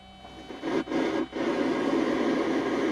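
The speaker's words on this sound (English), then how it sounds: "Okay, we got some static." Broadband static hiss comes from the radio of a 1982 DeLorean DMC-12 barn find, steady and fairly loud, cutting out briefly twice near the start before holding constant.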